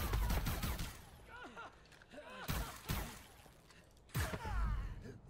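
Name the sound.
assault rifle firing in video game Far Cry 5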